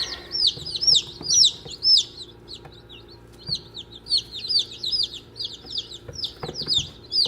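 Newly arrived chicks peep constantly in a dense, high chorus of overlapping chirps, close and lively, with faint handling noises underneath.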